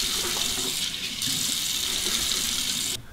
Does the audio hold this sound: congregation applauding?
no